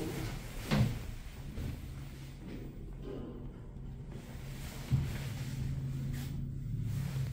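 An OTIS elevator door in the Sanbon station shopping arcade slides shut, with a soft thump as it starts moving and a second clunk a few seconds later as it seals, over a low, steady cabin hum.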